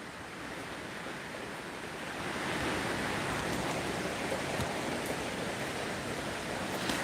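Wind and surf from Tropical Storm Fiona at Sosua, Dominican Republic, a continuous broad rushing wash that swells slightly louder partway through, distant and even with no voices.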